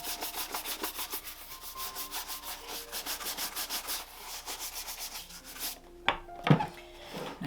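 Shoe brush scrubbing leather Mezlan shoes before waxing, quick rhythmic back-and-forth strokes up close, fading into a few softer scuffs and knocks at the end.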